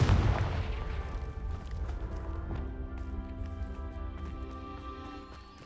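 A Confringo blasting spell cast in Hogwarts Legacy bursts with a loud booming impact, then a ringing, shimmering tail that slowly fades over several seconds, with no talk.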